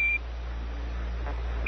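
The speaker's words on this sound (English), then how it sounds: "Roger, 1201 alarm." The Apollo lunar module's 1201 program alarm sounds as a thin, steady electronic tone, heard briefly at the start and again at the very end over a constant low radio hiss.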